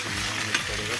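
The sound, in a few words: radish curry frying with cumin tempering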